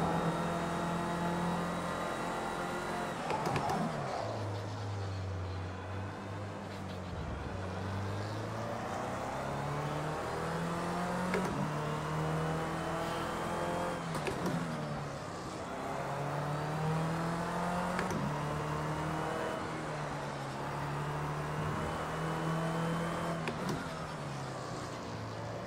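A race car engine in the Project CARS 2 racing game revs and drops through repeated gear shifts, its whine climbing and falling in sweeping waves over about 26 seconds, steady and fairly loud with no talk.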